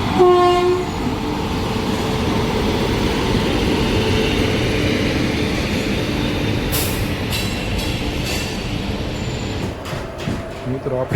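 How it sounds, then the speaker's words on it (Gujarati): A passenger train pulls out of Rajkot Junction on a double-track line with a loud, steady rolling rumble and wheel clatter. The horn sounds later, and people talk over the noise. "આપણી ટ્રેને ડિપાર્ચર લઈ લીધું રાજકોટ જંકશનથી"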